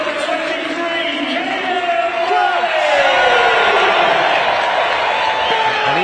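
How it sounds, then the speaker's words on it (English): A rugby crowd at the Twickenham Stoop applauds Harlequins player Ross Chisholm, a loud, continuous roar of clapping and cheering that swells slightly midway, with a commentator's voice over the top. "Ross Chisholm gets a lovely round of applause"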